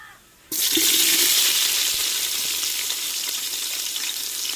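Cut onions drop into hot oil with curry masala and cinnamon for a home-style fish biryani, setting off a sudden loud, close sizzle that holds steady and unbroken to the end.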